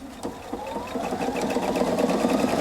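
A Husqvarna Viking Opal 690Q sewing machine stitches a manual buttonhole, a steady close mechanical whir with a rapid rhythmic needle beat that rises slightly in pitch.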